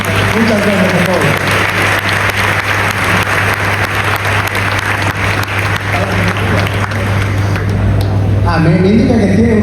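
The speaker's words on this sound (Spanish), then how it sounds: "un fuerte aplauso para nuestros panelistas" At a blockchain conference in Bolivia, the audience gives the panelists a loud, sustained round of applause, with a steady hum underneath and voices starting up under the clapping near the end.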